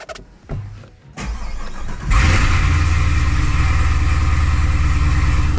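A Chevrolet Camaro engine starts up and settles into a loud, steady run, rising as the car accelerates while cruising, heard close and continuous with no talking.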